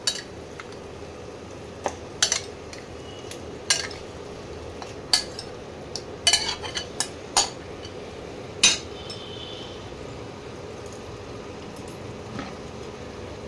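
Mutton pieces tipped into half-cooked spices in a pan for a home-style mutton curry: scattered sharp clinks and soft knocks of metal and utensils against the pan over a low steady background, with no talking.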